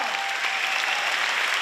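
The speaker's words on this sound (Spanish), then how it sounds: "Un fuerte aplauso" An audience claps at a televised awards gala in Navarra. The applause is loud and continuous, a brief, dense wash of many hands with no voices over it.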